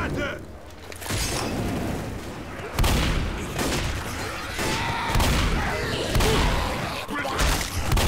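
Dense gunfire and explosions fill a Left 4 Dead zombie shooter session in rapid, overlapping bursts, with German-speaking players talking over the loud, continuous combat noise.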